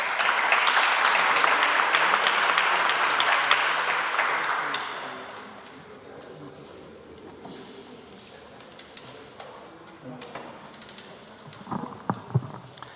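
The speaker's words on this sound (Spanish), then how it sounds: "Aplausos, por favor." Audience applause at a public forum analyzing the El Niño phenomenon, a full burst of clapping for about five seconds that fades into sparse claps, shuffling and room noise.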